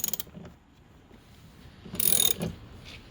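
A wrench ratchets on a Chrysler Pacifica door being taken apart, with a few quick clicks at the start and a louder, longer ratcheting burst later. It sounds close, in a quiet space, with no talking.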